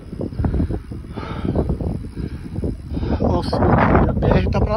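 Cold wind buffets the microphone while cycling along a road beside a railway line, a steady loud rumble that swells toward the end, with people talking over it throughout.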